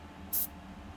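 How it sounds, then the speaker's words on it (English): A single light burst of spray paint misted onto a Dracula painting, a short airy hiss about a sixth of a second long over quiet room noise. "Very lightly, I'm spraying where the shadows were, just to bring a little bit of contour."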